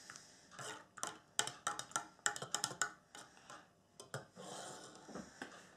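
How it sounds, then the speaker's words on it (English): A spoon stirs molasses into a tea mixture for spiced apple cider, making quick, irregular clinks and scrapes against the vessel in close, rhythmic bursts with brief pauses between. "Mix in all the molasses, make sure it dissolves everything"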